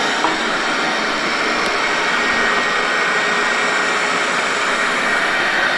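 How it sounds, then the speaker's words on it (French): A Lefant N3 robot vacuum cleaner working in mop mode, giving a steady, continuous motor whir and hiss at close range with no talking. "Le mode serpillière sur ce genre d'aspirateur."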